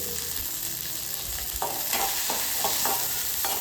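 Shallots, ginger and garlic sauté in oil for a country chicken curry, with a steady frying sizzle and repeated scraping stirs of a spoon across the pan, close and clear.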